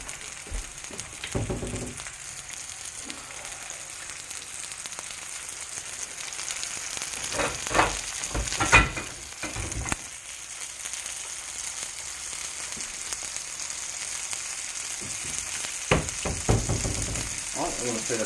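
Pork Vermont maple sausage fries in a pan beside breakfast cooking, a continuous close sizzle broken by occasional scrapes and knocks of utensils as the links are moved.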